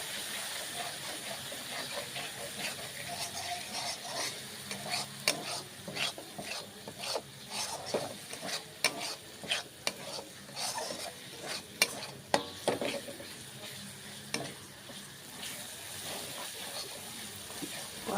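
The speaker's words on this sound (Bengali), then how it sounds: "কালারের জন্য কাশ্মীরি লঙ্কাগুলো দিয়ে দিলাম। দিয়ে এবার এটাকে ভালো করে একটু কষিয়ে নেব।" Masala with Kashmiri chillies for a Bengali-style tadka dal is stirred and sautéed in a pan, a steady soft sizzle broken by frequent scraping strokes of a spatula, some sharper and louder than others, with no talking.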